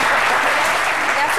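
A studio audience claps loudly and steadily in a dense, continuous wash of applause lasting the whole moment, with no voices standing out.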